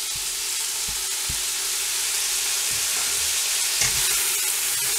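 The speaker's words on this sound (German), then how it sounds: "Verrühren wir das einmal." Red cabbage and chopped ingredients sizzle and fry steadily in a pan while a utensil stirs them, giving a constant close hiss with a few soft scraping knocks and no talking.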